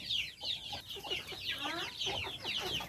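Hens and three-week-old chicks being moved to a new coop, close, busy clucking and peeping in overlapping bursts, with higher chick chirps mixed among the hens' calls throughout.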